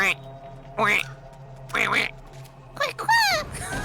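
A person vocally imitates the call of a chocobo, the large bird from Final Fantasy, with a series of short, warbling, squawk-like cries at irregular intervals.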